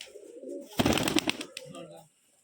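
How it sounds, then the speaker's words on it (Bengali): A pigeon, one of a feather-footed breed on a Rajshahi loft, gives a short burst of cooing over low background sound, then the scene goes nearly quiet. "ওই যে কবুতরটা আসছে, কবুতরটা নামবে মনে হয়।"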